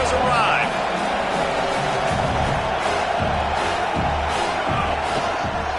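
A football stadium crowd at an NCAA game roars in a dense, sustained wall of cheering and yelling, with a commentator speaking over the noise.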